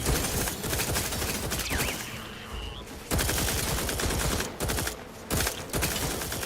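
Rapid turret gunfire in the video game The Outer Worlds 2, dense crackling bursts of automatic fire with short breaks, a brief whistling tone partway through.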